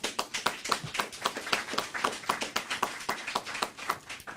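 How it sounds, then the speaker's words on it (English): An audience at an education-month press conference claps steadily, a moderately distant patter of many hands sustained for a few seconds with no voices over it. "Now that deserves a round of applause."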